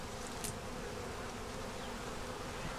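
Honey bees swarm audibly in an open hive as brood feeds on pollen, a steady, close, dense buzz that holds without a break, with no voices.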